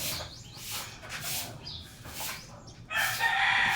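Backyard chickens clucking and a rooster crowing, several calls rising and falling close by, with a louder burst of squawking near the end over a quiet yard background.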